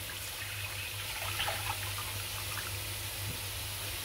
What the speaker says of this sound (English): Pour in about a liter of water